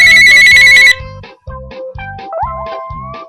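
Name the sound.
phone ringing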